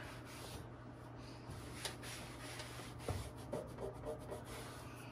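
A magic eraser rubbing over a scratched control panel overlay from an Atari Paperboy arcade cabinet, making a faint, steady scrubbing sound with a few soft bumps under a constant low hum.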